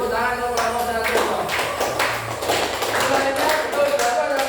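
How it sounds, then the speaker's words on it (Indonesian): Applause from a classroom of students for group 1, a dense steady patter of many hands clapping throughout, with some voices mixed in. "beri tepuk tangan untuk kelompok 1"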